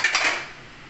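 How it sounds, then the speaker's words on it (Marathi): A metal lid is set on a cooking pan of raw tomato curry, one quick clink and rattle right up close that fades out within a second. "आपण आता झाकण लावूया."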